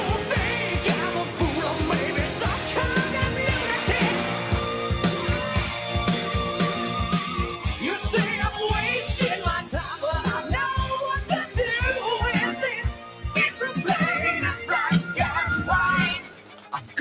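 A rock band's cover of a pop song plays loud and dense, a continuous rock band mix with driving drums and thick layered instruments that drops out near the end.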